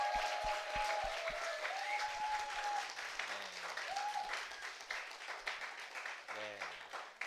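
A church congregation at a Sunday service claps in welcome for a visiting worship team, a moderate wash of applause with a few sharp claps at the start and soft tonal sounds mixed in.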